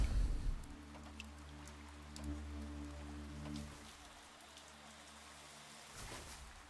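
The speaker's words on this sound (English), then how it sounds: "Oh, it's raining." Rain falls in the GodSIM video game as a steady soft hiss, with low rumbling tones and a few faint drops underneath, fairly quiet and continuous throughout, no talking.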